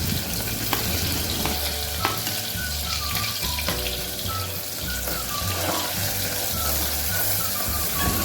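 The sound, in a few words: chopped onions frying with crushed garlic for dal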